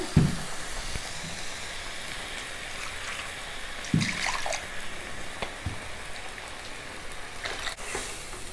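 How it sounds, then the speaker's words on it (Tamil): Mixer rinse water is poured into a pot of vegetable saagu, giving a steady splashing, trickling wash with a few sharper splashes, moderately loud and close, with no talk. "இப்போ இதை மிக்சி கழுவின தண்ணி சேர்த்துக்கிறேன்"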